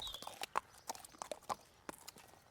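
Pack horses plod slowly with a rhythmic clip-clop of hooves, irregular and fairly quiet, with no voices.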